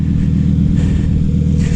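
Lamborghini Huracan Evo convertible engine with the window down, a loud, close, steady low rumble with a slight rise in revs, no voices.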